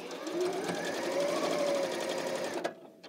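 A sewing machine stitches a quilt sampler block with a steady, close mechanical whir for about two and a half seconds, then stops abruptly with a brief clunk.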